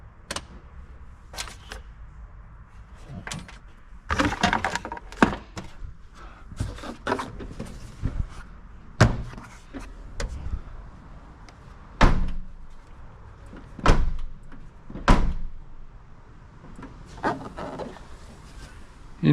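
Door or tailgate of a Nissan Y62 Patrol being shut, a series of sharp thunks and knocks spread across the clip, some fairly loud and close, with quieter rattles and handling between them and no talk.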